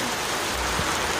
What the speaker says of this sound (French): il est en train de pleuvoir